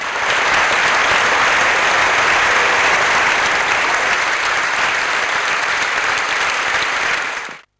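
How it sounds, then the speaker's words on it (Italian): A theatre audience at Teatro Carignano in Turin bursts into sustained, dense applause, a thick continuous roar of many hands that holds steady before cutting off at the end. "in un tripudio di applausi la ringrazia"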